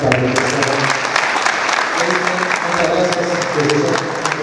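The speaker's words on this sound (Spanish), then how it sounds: "un fuerte aplauso para él." Audience at an international aquaculture forum honor ceremony applauds loudly and continuously for a workshop coordinator, dense clapping under a presenter's voice throughout.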